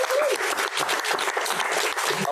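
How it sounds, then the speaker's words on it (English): An audience at a live conversation event breaks into applause, a full, even roar of many hands clapping that holds steady and loud throughout without any speech. "Yeah, we can clap."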